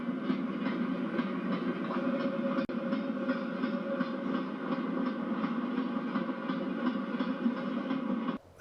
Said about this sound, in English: The boat train arrives in Southampton